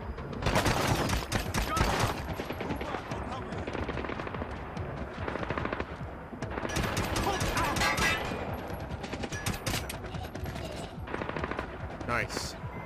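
Rapid automatic gunfire from a weapon in the video game Splinter Cell Blacklist rattles in several loud bursts with short gaps between them, set against game background sound.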